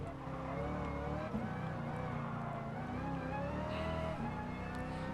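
A 1970s muscle car engine in the racing game Gran Turismo Sport roars continuously at high revs, with shifting pitch as it accelerates and eases, loud and steady throughout with no voices.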